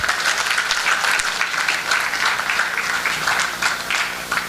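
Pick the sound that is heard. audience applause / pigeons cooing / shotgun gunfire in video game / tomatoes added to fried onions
audience applause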